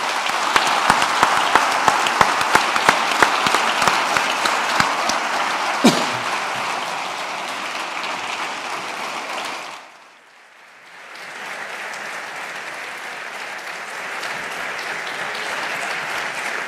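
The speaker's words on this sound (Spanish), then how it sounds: "un enorme aplauso para toda la empresa familiar y para todo el empresario aragonés" Sustained, loud applause from an audience at a family business awards ceremony in Aragón, dense clapping that rolls on, dips briefly at about ten seconds, then swells back to a steady roar.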